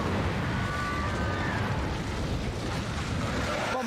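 The Incendio fire spell is cast in the wizarding game Hogwarts Legacy, giving a loud, steady rushing roar of flame that fills the short moment without letting up.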